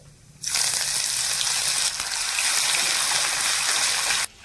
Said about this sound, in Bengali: হালকা করে এই ফোড়নটা একটু ভেজে নেব